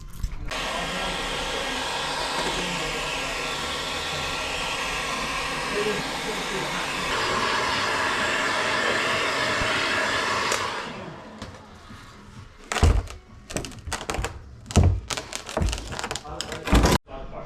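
A heat gun blows a steady, loud hiss against a crash-damaged plastic car bumper for about ten seconds, then cuts off, leaving scattered knocks and handling clatter.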